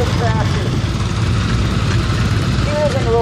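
A 1969 Sears Roebuck 10 horsepower tractor runs with a steady, low engine rumble during a vintage tractor parade, sounding loud and close, with faint tonal traces that may be voices in the background.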